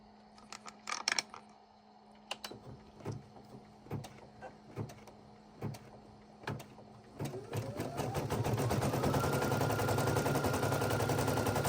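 An embroidery machine stitches gold thread onto a cooling sport towel: sharp, isolated mechanical clacks and whirs at first, then a continuous rapid rattling hum of needle strokes that settles in for the rest, fairly quiet and close.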